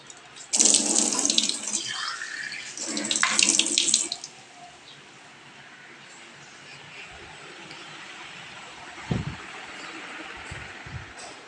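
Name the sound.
running water for watering tulsi plants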